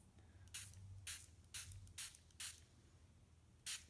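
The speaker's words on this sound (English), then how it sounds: "I'm just going to spray over the block a little bit here." A Stampin' Mister sprayer mists water over a stamping block in a quiet room, giving six short, soft hissing spritzes at uneven intervals.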